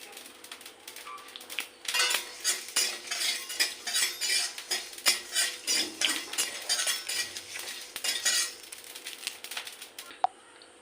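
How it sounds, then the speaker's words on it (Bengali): A fried spice mixture for stuffed bottle gourd leaf rolls is stirred in a pan, giving rhythmic metal-on-metal scraping strokes that repeat steadily over a faint background sizzle before stopping near the end. "আমার মশলাটা বানানো হয়ে ভাজা হয়ে গেছে"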